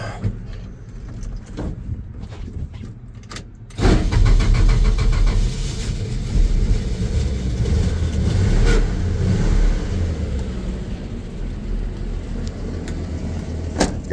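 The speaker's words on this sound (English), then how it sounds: "Runs good, motor seems sound smooth. It's a little sewing machine." A slant-six pickup truck engine with a four-speed idles steadily close by, then picks up louder at about four seconds and keeps running with a smooth, even hum.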